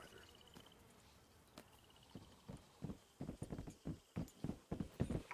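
Steady clip-clop of horse hooves in Red Dead Redemption 2, a run of rhythmic hoof strikes building in pace, with faint chirping in the background.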